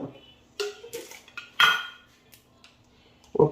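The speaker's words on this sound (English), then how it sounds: "We've got our saucepan here that we are putting on, and that goes to 7." A saucepan is set down on a stovetop burner being turned up to 7, with a few clanks and knocks of pot and metal, moderately loud and close, separated by quiet gaps and no talking.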